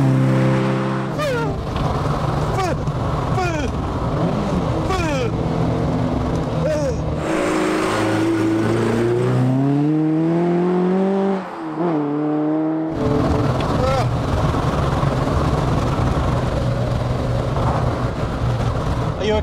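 Talbot Sunbeam Lotus being driven, its engine droning loudly inside the cabin with rising and falling revs through gear changes, a brief lift-off near the middle, and speech-like sounds mixed in.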